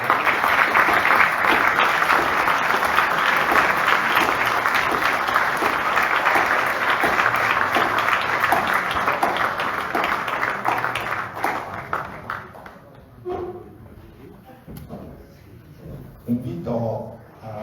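A stage ceremony audience in Nuoro applauds honoured Sardinian musicians, sustained full-room clapping that carries for about twelve seconds before thinning out, with a few scattered claps and voices near the end.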